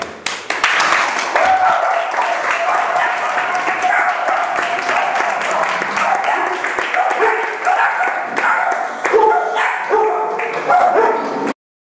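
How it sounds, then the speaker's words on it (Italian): Applause from an audience at an animal-rights discussion event, dense clapping sustained for about eleven seconds, with a dog barking and yipping among the crowd and a few voices mixed in. "Allora un applauso."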